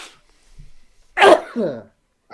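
A single sharp sneeze bursts out abruptly, loud and close, followed by a brief voiced sound; otherwise mostly quiet.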